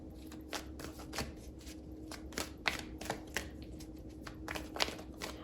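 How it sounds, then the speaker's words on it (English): A deck of tarot cards is shuffled by hand at close range, with a run of soft riffling flutters and taps repeating in quick, uneven bursts and no one speaking. "I'm going to get a couple of cards to clarify it and see if we can get more information on this"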